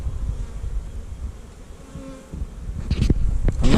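Bees buzzing in a clearing beside a bushwalking trail along an escarpment, a close, steady insect drone with a few nearer buzzes and some rustling toward the end, with no talking.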